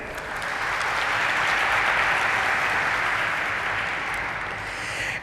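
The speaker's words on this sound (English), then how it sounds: "A big round of applause for them." Sustained applause from an audience at a company stock-exchange listing ceremony in Mumbai, a dense, even wash of many hands clapping that swells in and holds steady for several seconds.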